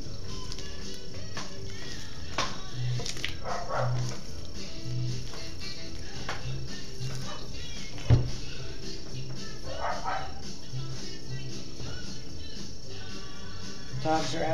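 Dogs bark outdoors in scattered single woofs and short runs, moderately distant, over a steady background hum with indistinct talk nearby.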